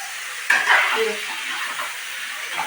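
Eggplant frying in hot oil in a pan, a sudden hissing sizzle that bursts in and then settles into a steady crackling fry, close and fairly loud, with no talking.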